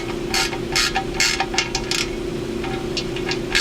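A ratchet snugs up 14 mm bolts on a Jeep Grand Cherokee EcoDiesel intercooler, producing close, crisp bursts of rapid clicking in several short strokes separated by brief pauses.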